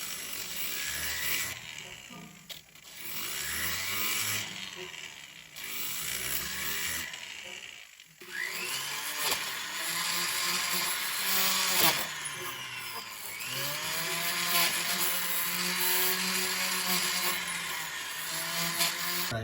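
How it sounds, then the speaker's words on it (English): A polishing wheel whines and scrapes as a brass spinning coin ring is pressed against it, rising and falling in bursts with brief pauses, close by and fairly loud throughout. "I'm gonna go straight to the polishing wheel after that and get all the scratches and everything out of it."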